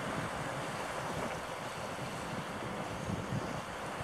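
Light wind blows over a beach at Golubaya Bukhta in Gelendzhik as sea waves wash in, a steady close rushing of breeze and surf with no voices.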